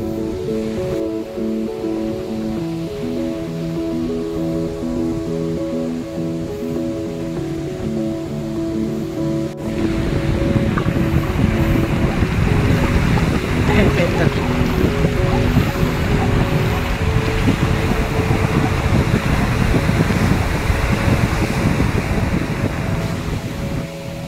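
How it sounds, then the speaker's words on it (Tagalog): Strong ocean waves roll and crash steadily onto the shore, a dense continuous roar that grows louder partway through, with wind buffeting the microphone and no talking. "Lakas ng alon."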